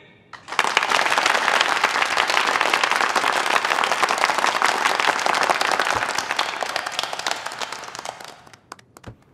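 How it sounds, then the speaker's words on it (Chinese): Warm applause from a classroom audience of students and teachers at a school event, a dense, loud burst of clapping rising fast and holding steady for about eight seconds before fading. "所以此时我们是不是要给自己还有在座的老师们一个热烈的掌声鼓励？"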